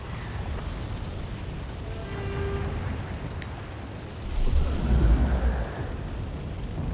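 Cannon blasts in the Warhammer Online Return of Reckoning game, with low booming explosions rumbling through steady battle noise, one heavier blast swelling near the middle and no talk over it.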